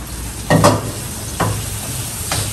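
Goat meat fries in a pan, a constant sizzle broken by three distinct scraping stirs spaced about a second apart, close and fairly loud, with no speech.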